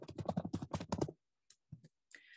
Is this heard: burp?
no